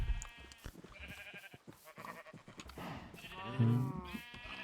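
Black sheep bleat inside a barn, several overlapping calls rising and falling across the clip, with a louder, closer bleat near the end over a steady background of shuffling livestock.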